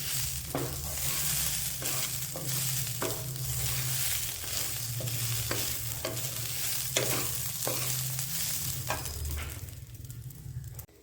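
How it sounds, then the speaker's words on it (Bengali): Basmati rice is fried in a pan over a low gas flame, with a steady sizzle broken by regular scraping strokes of a spoon stirring the grains and a low burner rumble beneath. "ভাজা ভাজা করে নিতে হবে চালটাকে"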